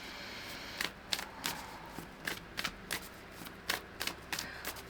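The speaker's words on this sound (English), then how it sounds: "let's pull some oracle cards from the Sacred Symbols Oracle deck" A Sacred Symbols Oracle card deck is shuffled by hand in a rapid, rhythmic series of close, papery riffling bursts, about a dozen in quick succession.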